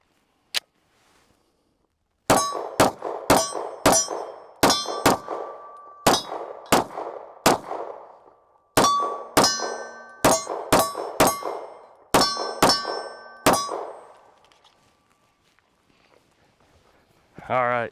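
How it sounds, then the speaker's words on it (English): Staccato HD 3.6 pistol fired at steel targets outdoors: a full magazine of sharp, loud shots at a steady, quick pace, each followed by a ringing metallic clang that decays between rounds. "Let's shoot the last mag here."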